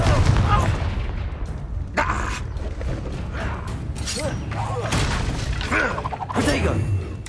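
Fiery spell blasts and booming impacts from a Hogwarts Legacy wizard duel, several loud bursts spread across a dense, busy battle mix with mechanical clatter and a shouted voice.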